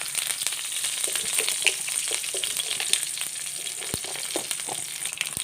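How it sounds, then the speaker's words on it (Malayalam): Mustard seeds crackle and pop in hot coconut oil, sharp scattered snaps over a steady frying sizzle, close and moderately loud with no talking. "വെളിച്ചെണ്ണയൊക്കെ നന്നായി ചൂടായപ്പോൾ കടുക് ഇട്ട് കൊടുക്കുക."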